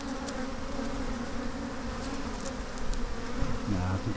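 Honey bees swarm thickly around a hive after a swarm has landed, giving off a dense, steady, close-up buzz with individual bees droning past now and then.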